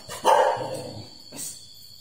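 A young male hunting dog bred for small game barks loudly and close, with one strong bark followed by a second, softer bark after a short pause, and no talk over it.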